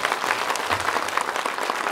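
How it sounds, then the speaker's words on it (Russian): An audience applauds a girl on stage, with dense steady clapping from many hands filling the room at close range. "Смотри, как тебе аплодируют"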